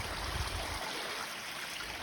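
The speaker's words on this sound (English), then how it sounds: "Nice little creek." A small mountain creek on the Falls Creek to Mount Bogong trail flows with a soft, constant, faint rush and trickle, with no voices.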